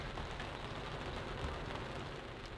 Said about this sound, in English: Raining and cold out there.